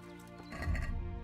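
A horse in the video game Kingdom Come: Deliverance gives a single brief, faint whinny with a soft snort at the end.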